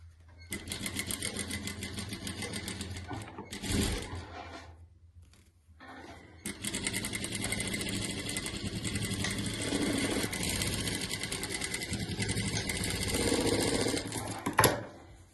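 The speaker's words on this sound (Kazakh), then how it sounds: "Енді үшінші қапталын тігеміз" A sewing machine stitches the sides of a patchwork quilt piece in close, rapid bursts of needle clatter, stopping briefly between runs and restarting.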